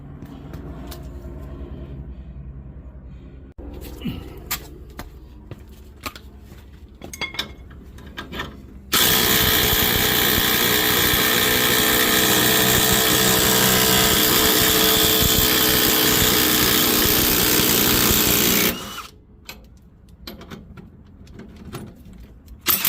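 A ball joint press forces out the lower ball joint on a Lexus GX470, giving a loud, harsh, continuous grinding roar that lasts about ten seconds. Quieter metallic clinks and shop handling noises come before and after it.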